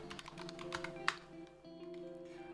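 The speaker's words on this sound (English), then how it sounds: "Within here, we're gonna type in Umbraco." Keystrokes on a computer keyboard while a package name is entered: a quick burst of soft, close taps, then a quieter stretch with a low background hum.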